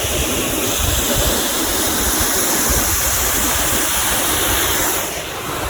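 A clear stream at Ghatsila rushes steadily past, producing a loud, continuous broadband wash of flowing water close to the microphone, with possible light wind buffeting and no talk.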